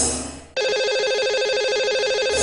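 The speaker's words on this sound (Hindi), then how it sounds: "चलिए सबसे पहले उन्हें फोन लगाते हैं।" A telephone ring tone trills in a steady, warbling pattern after a sudden switch from background noise, as a call is placed to a radio show's lucky caller.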